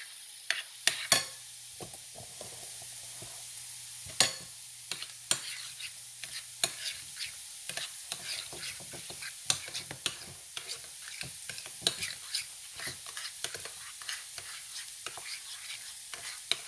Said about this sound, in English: And then I'm gonna stir it, give it a stir.